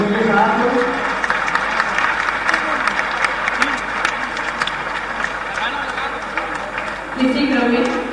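Audience clapping at a ceremony honouring guests at a memorial event in Bhopal, a dense sustained wash of applause throughout with a swell near the end, while a voice speaks over a loudspeaker.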